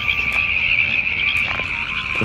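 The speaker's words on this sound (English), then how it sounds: "The frogs are really going crazy tonight." Frogs croak at night in a dense, continuous chorus, a steady high trilling drone with scattered nearer calls standing out, no voices.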